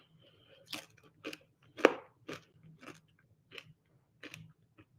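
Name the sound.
chewing crunchy air-fried food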